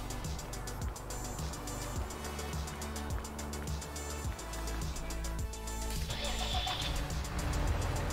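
A vehicle drives along a road at night in Farming Simulator 19, a steady mid-pitched engine hum with regular rhythmic thumps and a slight rise in loudness toward the end, with no talking.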